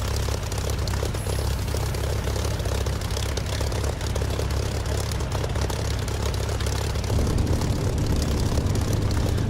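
A propeller aircraft engine drones steadily in the DCS flight simulator game, a loud, constant low rumble with no speech over it.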